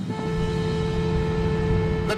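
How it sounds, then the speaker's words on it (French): A car horn sounds steadily from a moving car, a constant unwavering tone held throughout over low engine and road rumble, with a faint voice at the very end. "Le ton du klaxon est constant"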